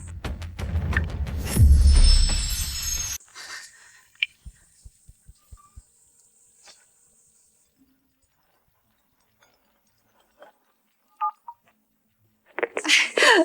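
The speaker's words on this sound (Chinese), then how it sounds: "我打个电话。" A telephone number dialed on a phone, a series of short, evenly spaced keypad beeps in a quiet room after an argument ends, followed by a pause and a few more soft tones.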